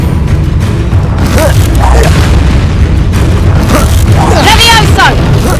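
Confringo fire spell blasts in a Hogwarts Legacy battle on PS5, loud booming explosions over a constant rumble of combat, with voices and creature cries mixed in.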